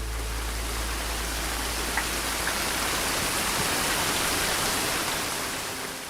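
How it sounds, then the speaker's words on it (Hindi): Steady rain pours down in a dense, even hiss with no break, loud and close, fading slightly at the very end. "तभी बारिश होने लगी।"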